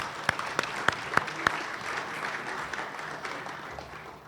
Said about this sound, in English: Let's give a round of applause for Keith.